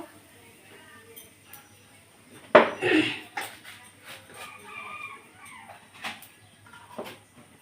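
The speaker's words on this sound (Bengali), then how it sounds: "এবার আমি রাঁধুনিটা ফোড়ন দিয়ে দেব।" Radhuni seeds are dropped into hot oil in a wok and give a sudden loud sizzling burst that fades into a lighter, crackling fry, with a voice talking over it.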